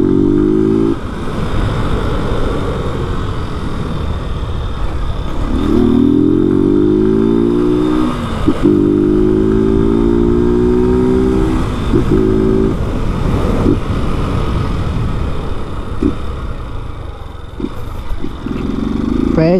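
A Honda Fan 160 motorcycle with a jet cam and its original exhaust without a filter revs loudly up close, its engine pitch climbing in repeated surges between idling stretches.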